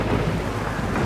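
Heavy rain pours steadily through a night storm with a low thundery rumble underneath, a dense continuous wash of noise with no voices.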